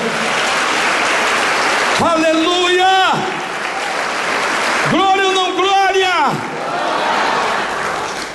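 A church congregation claps and cheers for the Lord in steady, dense applause that runs the whole way through, while a preacher's voice rises above it in two loud bursts.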